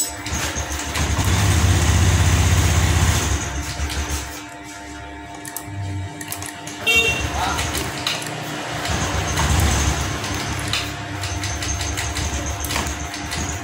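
A motor engine catches after a double-starter crank and runs with a steady idle, its loudness dipping and surging unevenly as if struggling; a voice talks intermittently over the rumble.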